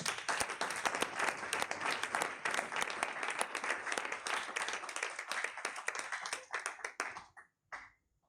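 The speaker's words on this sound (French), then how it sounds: "Est-ce qu'on peut acclamer pour nous?" A church congregation applauds during a Wednesday prayer service, with dense, steady clapping that carries on for about seven seconds before breaking off into a few final scattered claps.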